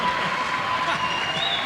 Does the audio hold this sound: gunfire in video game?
no